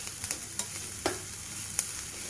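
Onion, green chilli and curry leaves fry in oil with a soft, steady sizzle and occasional light stirring clicks, heard alone and fairly quiet.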